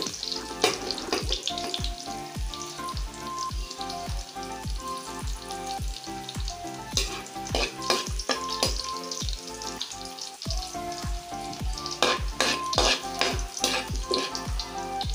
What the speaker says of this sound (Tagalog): So, una bawang. Antayin natin siya mag-golden brown.